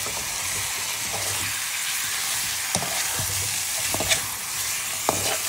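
Fish pieces dropped into a hot pan of oil for sinigang na malaga, a steady loud sizzle with sharp clatters and scraping stirs breaking through at intervals, no voices.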